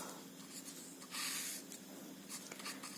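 Pen or pencil scratching across paper in quick bursts while working out a decimal-to-binary division problem, with a longer continuous stroke in the middle; close and fairly quiet, no talking.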